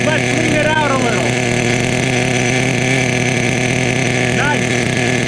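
A Duratrax Nitro Quake RC truck with a vintage TORQ 21 big block nitro engine runs steadily and loudly throughout, a constant buzzing drone with a couple of brief pitch sweeps, while someone talks over it.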